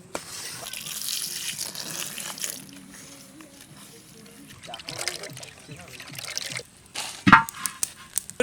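Water is poured into a bowl of maida and cornflour batter for coating potato-based vegetable lollipops, giving splashy gushes and stirring sounds followed by a few sharp knocks. A person talks over it in between.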